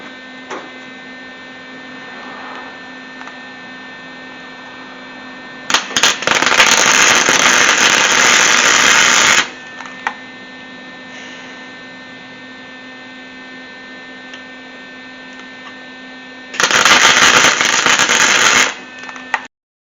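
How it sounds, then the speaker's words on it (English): A welder fires on a 4-speed Corvette shifter in two loud bursts of crackling arc noise, about four and two seconds long, separated by a steady electrical hum. "we're going to fire up the welder, put a little tack right here"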